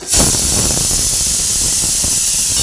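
A kitchen pressure cooker vents steam in a loud, continuous hiss that starts abruptly and holds steady to the end, close by with no talking.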